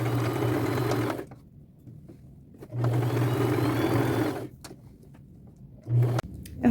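A sewing machine stitches a flannel skirt seam in three bursts: a long run, a pause, a second long run, then a short final burst, loud and close with quiet gaps between.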